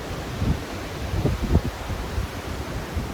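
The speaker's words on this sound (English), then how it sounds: "It is so windy." Strong wind buffets the microphone in a garden in heavy, uneven low gusts that roar continuously with no voices.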